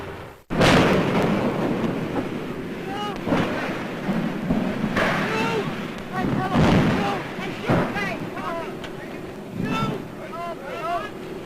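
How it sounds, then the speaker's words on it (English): Archival film sound of the Hindenburg airship disaster: a sudden loud blast opens into a roaring, rumbling din of fire and crashing, with shouting voices and whistle-like tones rising through the chaos. "the actual crash of the Hindenburg, an airship destroyed in less than half a minute"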